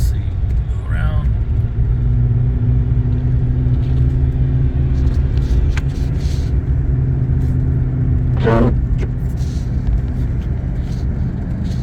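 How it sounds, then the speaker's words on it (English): Car driving to Lake Tahoe through a blizzard: a steady, loud low engine and road rumble throughout, with a few brief higher noises on top. "Driving on the left side of the road."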